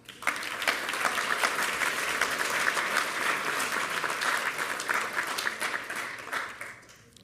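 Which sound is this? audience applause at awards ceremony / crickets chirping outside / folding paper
audience applause at awards ceremony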